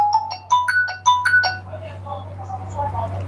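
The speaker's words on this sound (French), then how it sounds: "Appel entrant." A phone ringtone for an incoming call plays a bright repeating melodic pattern of short tones, loud at first and then fading, with a steady low hum underneath and a voice speaking briefly.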